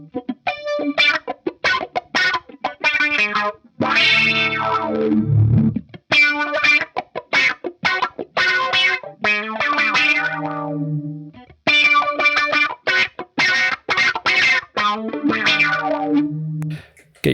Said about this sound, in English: So with the envelope filter and the flanger on, we've got this.